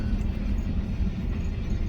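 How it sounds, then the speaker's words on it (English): A steady low rumble of a train rolling past, dense and continuous with no voices. "when you get stuck by this train, you get stuck by it"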